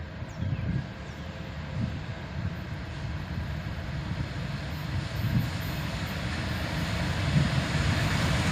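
A CSX GP38 diesel locomotive without dynamic brakes hauling a freight train past a park, a steady low rumble with rhythmic wheel clatter that swells slightly toward the end.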